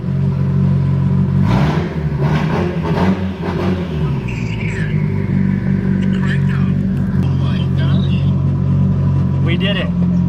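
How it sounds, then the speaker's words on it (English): A Mitsubishi Lancer Evolution engine runs loud and close with a steady low rumble, swelling briefly as if revved, while voices and clatter sound over it. "we got the Evo running"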